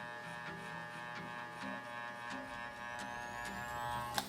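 Electric hair clippers fitted with a one guard, lever fully open, trim around the sideburns in a men's haircut, making a close, steady buzzing hum with small shifts as the blade moves through hair.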